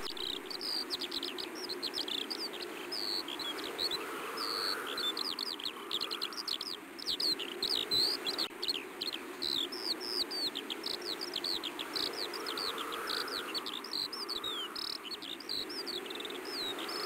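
Long-legged buzzard chicks call repeatedly in a steady stream of high, thin chirps as an adult arrives with a ground squirrel, set against constant insect and cricket chatter outdoors, with no talking.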